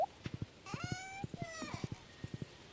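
Horse hooves clip-clop in quick groups of three in Stardew Valley, a farming video game, with a brief whinny midway and game sounds layered over the steps.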